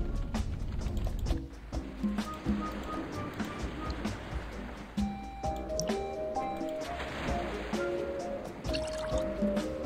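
In a video game, sewage water is poured from a glass to a pelican as a series of wet drips, trickles and squishy splashes, with soft tonal game sounds underneath.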